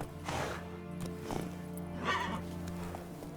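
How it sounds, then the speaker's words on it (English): Roach the horse neighs in The Witcher 3 game, a close, loud whinny over steady clip-clop hoofbeats and a low ambient game soundscape. "Whoa there, Roach"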